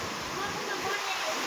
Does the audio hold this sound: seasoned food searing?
no